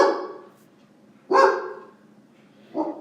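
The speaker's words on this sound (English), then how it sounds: "Sorry, dog barking." A dog barks three times nearby, loud and sharp, with short pauses between each bark.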